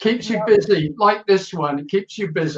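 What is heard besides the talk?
No everyday noise stands out behind the speech.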